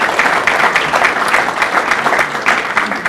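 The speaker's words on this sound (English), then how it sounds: "So give them a big round of applause." Steady applause from an audience at a city address, greeting elected officials in attendance; a dense, even clatter of many hands clapping at once, filling the hall continuously for a few seconds with no pause.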